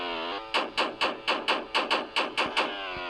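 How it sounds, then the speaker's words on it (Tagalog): Engine backfire of a car in the Roblox game, a rapid run of about nine evenly spaced loud pops following a humming engine tone, each pop sharp and close. "pag yung putok ng motor niya ayun, tignan mo pumuputok."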